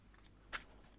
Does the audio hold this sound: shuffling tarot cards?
yes